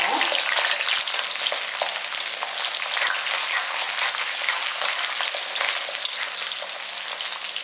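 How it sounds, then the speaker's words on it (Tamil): Spices and 25 to 30 garlic cloves fry in hot oil for Tamil vathal kuzhambu, a loud, dense and steady sizzle with faint stirring scrapes throughout and no voices. "பாருங்க, எல்லாமே நல்லா பொரிஞ்சிட்ருக்கு."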